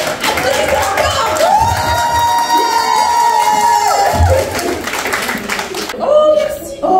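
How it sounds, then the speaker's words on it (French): Seminar audience in Paris clapping and cheering loudly for several seconds, with high excited voices and whoops riding over the applause, a brief dip, then a final burst of cheering. "Vous pouvez applaudir. Applaudissez encore."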